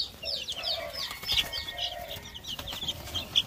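Small ornamental Sigma chicks and young fowl cluck and peep in overlapping high chirps, several birds close by with steady chatter and no talking.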